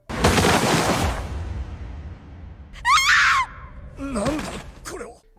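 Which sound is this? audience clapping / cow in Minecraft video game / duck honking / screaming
screaming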